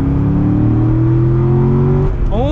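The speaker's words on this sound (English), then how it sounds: "That engine is scary." Chevrolet Corvette C6 Z06 engine revving hard from inside, a loud throaty drone climbing steadily in pitch, then a quick lift and a fresh rising surge.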